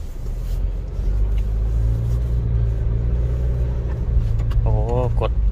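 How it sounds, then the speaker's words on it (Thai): A car fitted with an electric throttle controller pulls away, its engine rumbling steadily and loud throughout with a brief rising whine near the end; someone speaks over the engine. "กดคันเร่งน้อยกว่าเดิมนะครับแล้วรถมันจะออกตัวดีขึ้น"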